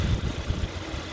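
A 2015 Hyundai Tucson Limited's 2.4-liter four-cylinder engine idles steadily under the hood, a low, even rumble that holds close and constant with no voices.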